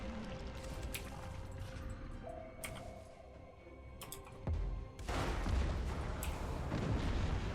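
Warship torpedoes launch in a Battlefleet Gothic Armada 2 space battle against Tyranids, a few sharp thuds and blasts over a dense rumbling hum, building into a louder, rushing roar in the final seconds.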